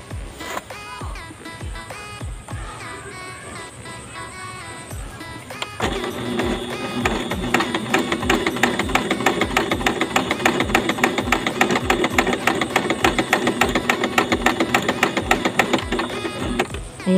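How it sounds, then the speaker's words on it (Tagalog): A Janome sewing machine runs a long stitching pass, its steady mechanical whir and rhythmic needle thumps close and loud, picking up speed and intensity partway through. "Pakita ko lang sa inyo kung ano yung tahi niya."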